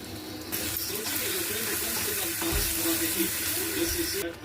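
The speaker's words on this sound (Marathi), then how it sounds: "त्यापर्यंत चांगला परतून घ्यायचा आपल्याला मसाला" Spice masala with turmeric, coriander, chili and garam masala powders sautéing in a pan for paneer masala, a steady close hiss and sizzle with light scraping and a brief stir knock partway through.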